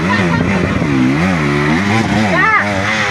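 Motorcycle engine revving up and accelerating on a ride, its rising and falling engine note steady and close, with people talking over it.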